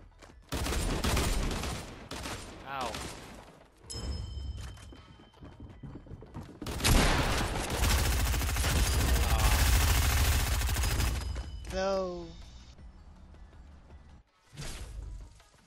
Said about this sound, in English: I didn't reload my SMG.